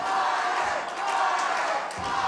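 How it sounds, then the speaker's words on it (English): A wrestling crowd in Waco cheers and shouts steadily for a championship match, a loud, continuous roar of many voices with a brief dip before swelling again. "And you hear the crowd like I said, here in Waco trying to encourage Carter along"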